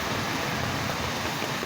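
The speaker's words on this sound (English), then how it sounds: "this thing is dripping water inside of this daggone tent" Steady rain drums on a tent with water dripping inside, heard as a dense, even hiss without pause or separate drops standing out.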